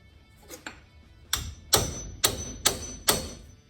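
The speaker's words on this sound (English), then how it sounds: "Don't beat on your wrenches, guy." A hammer strikes a wrench during brake work on an S10 4x4 in a weld shop, two light taps followed by five loud, ringing metallic blows about half a second apart, close by.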